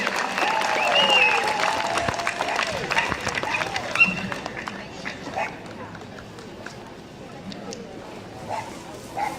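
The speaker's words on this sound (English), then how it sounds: "Give her another round of applause, please." An outdoor crowd at a Memorial Day parade applauds after the national anthem, a burst of clapping that soon gives way to voices talking over lighter crowd noise.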